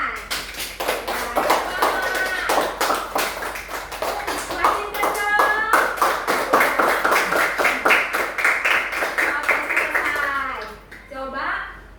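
Hand clapping fills a classroom during a warm-up activity, a steady rhythmic run of sharp claps from a group, loud and close, with children's voices calling out over it before it fades near the end.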